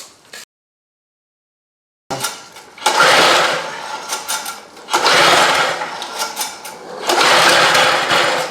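A DR string trimmer, bought at auction, with a freshly rebuilt carburetor and starter fluid added, is being started. After a short silence come repeated bursts of its small high-pitched two-stroke engine, each a few seconds long, loud and near.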